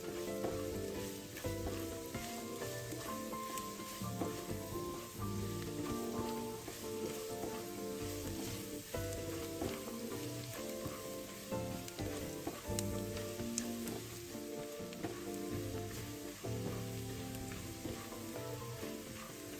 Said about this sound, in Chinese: 蒜瓣30克，剁碎後加入爆香